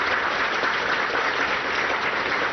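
Steady, dense applause from a crowd at a Punjab soil and water conservation department farmers' event in Jalandhar, welcoming the invited experts, sustained evenly throughout with no talking over it.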